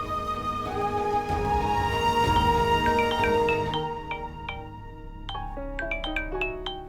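A melodic electronic phone ringtone plays a series of tones over a dense background, then continues in brighter, sparser notes.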